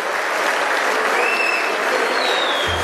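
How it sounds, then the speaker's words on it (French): Audience at a 75th-anniversary gala applauding board members called onto the stage, a steady dense wash of clapping filling the room with no voices over it. "Je vous demande s'il vous plaît de les applaudir"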